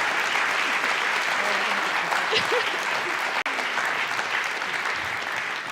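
Sustained, dense applause from a theatre audience thanking the discussion panel at a Shakespeare Q&A event, loud and continuous throughout with a single sharp click partway through.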